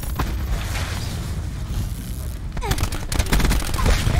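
Rapid gunfire and explosions from Call of Duty Black Ops 4 multiplayer gameplay, dense crackling bursts of automatic fire running continuously and growing heavier toward the end.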